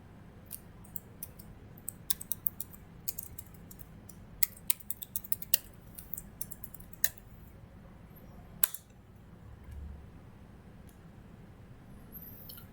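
Keys clicking on a computer keyboard in quiet bursts: irregular taps with short pauses between runs and a couple of sharper clacks, no talk.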